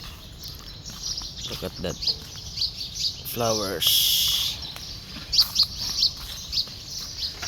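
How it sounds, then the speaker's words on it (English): Outdoors on a morning walk, birds chirp in short scattered tweets of moderate loudness while someone speaks. "You can hear the sounds of birds."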